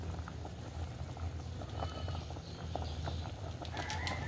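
Goat head and feet simmer in tamarind soup, giving a faint, steady bubbling and light popping, with a rooster clucking and crowing somewhere in the background.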